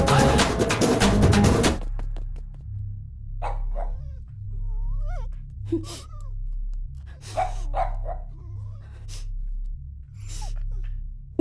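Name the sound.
dog barking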